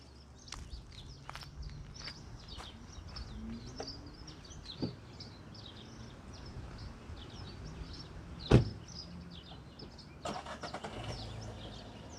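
A small, low-powered car spins outside, heard from a distance: a steady engine and tyre rumble with a sharp bang partway through, while birds chirp in the background.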